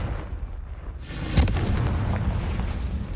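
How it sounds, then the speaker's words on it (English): A Confringo fire spell goes off in the Hogwarts Legacy video game, a sudden booming blast that rolls into a sustained rumbling crackle after a quiet lead-in, with no talking. "Confringo!"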